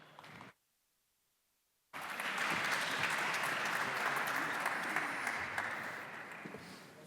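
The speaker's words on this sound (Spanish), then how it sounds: "Un aplauso, por favor." An audience at a language and digital-era conference breaks into steady applause after a short silence. The clapping stays loud and dense for about five seconds before easing slightly, with no talking.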